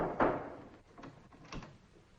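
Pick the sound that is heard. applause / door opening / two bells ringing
door opening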